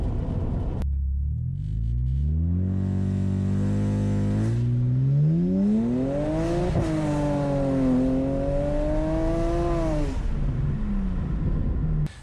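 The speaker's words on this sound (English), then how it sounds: "that's the transmission not shifting into second, or it's slipping or something" A 600 hp 2010 BMW 335 with the N54 twin-turbo engine pulls away loudly and revs rise steadily, then flare and waver as the transmission slips instead of shifting cleanly into second. No voices are heard.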